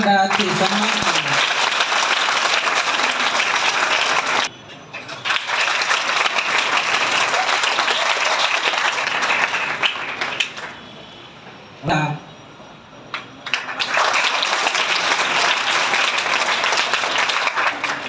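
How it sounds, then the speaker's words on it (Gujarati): Audience at a school entrance festival applauding in long loud sustained bursts of clapping, with two brief pauses where the clapping drops away before resuming at full strength. "તાળીઓના ગણગણાટથી સન્માન કરો."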